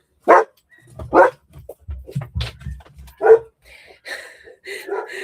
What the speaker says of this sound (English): I guess the dogs are not going to let me do this today